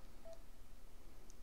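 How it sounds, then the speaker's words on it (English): A mobile phone goes off with a short electronic tone and a couple of faint beeps, heard quietly over a steady low background hum with no talking. "That's my phone going off."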